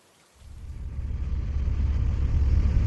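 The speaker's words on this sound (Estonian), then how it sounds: "Siis hakkas vihma sadama." Rain begins to fall, a low rushing wash that swells from near silence and grows steadily louder, with no voices.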